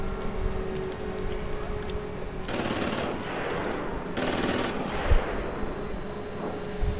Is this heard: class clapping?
no